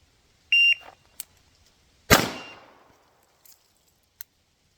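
A shot timer gives a single sharp electronic beep set to a 2-second par time, followed by a loud gunshot with a decaying echo, a couple of faint clicks and a second short beep marking the par at the end.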